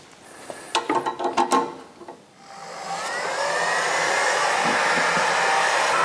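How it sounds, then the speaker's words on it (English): After a few sharp mechanical clicks, a heat gun switches on and blows hot air in a steady, rising whir that holds loud and constant while wiring on a race car rebuild is worked on. "I will use my heat gun for the rest of it"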